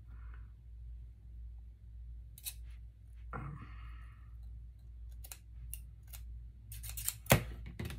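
Scissors snipping stems for a botanical shadow box, a few crisp, close cuts spread across a quiet stretch with a low steady hum underneath.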